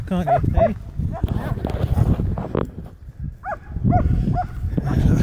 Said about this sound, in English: you can hear them barking now